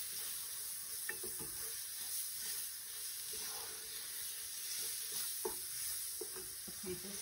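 Chicken curry being stirred in a pan as a tablespoon of flour is mixed in, giving a soft scraping and a low sizzle with occasional light utensil clinks against the pan.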